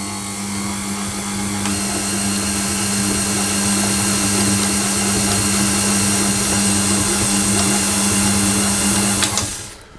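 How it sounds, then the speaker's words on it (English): An electric mixer creams butter and sugar for cookie dough with a steady, loud motor whir and hum close by, running continuously for about ten seconds before cutting off. "the first thing we're going to do is to just mix the butter and sugar until it's combined"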